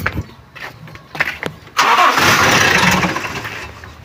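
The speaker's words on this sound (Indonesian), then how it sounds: "kita coba nyalakan mobilnya" A Toyota Kijang Kapsul with an emissions-control fault cranks with a few faint starter attempts, then the engine catches and runs loudly near the microphone, struggling to settle into a steady idle.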